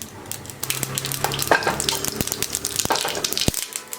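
Mustard seeds and cumin temper in hot oil left from frying taro root, making a loud, busy crackle and sizzle dense with sharp pops and spatters, close and continuous, with no talk.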